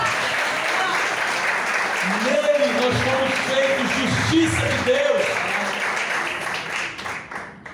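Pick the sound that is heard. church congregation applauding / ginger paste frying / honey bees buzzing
church congregation applauding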